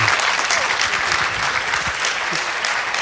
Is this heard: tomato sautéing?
no